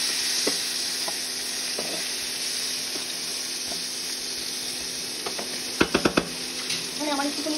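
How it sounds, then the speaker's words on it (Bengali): Chopped onions fry in hot oil for an egg curry, a steady close sizzle that runs throughout, with a few quick metallic utensil clinks near the end. "পেঁয়াজটাকে একটু ভাজা ভাজা করবো।"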